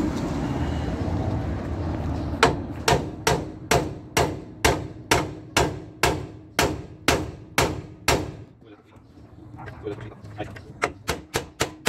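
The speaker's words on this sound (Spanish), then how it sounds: "Voy a agarrar el mazo." A heavy mallet beats a car ball joint out of its mount without a hydraulic press, striking around twenty sharp metallic blows in a steady rhythm, then a short pause and a few more hits, with talk in the background.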